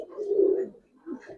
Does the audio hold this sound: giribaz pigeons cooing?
yes